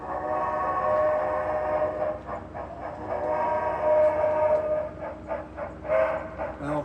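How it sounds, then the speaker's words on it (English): HO scale model train running on a large home layout, a steady mechanical rumble with pulsing clicks as it rolls past, moderately loud and continuous, with faint room noise. "I want the train to go straight down at that crossover."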